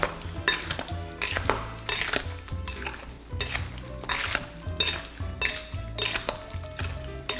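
A utensil stirs strawberries and sugar in a bowl for strawberry syrup, giving steady clinks and scrapes against the dish in an irregular rhythm, close and moderately loud, with no talk.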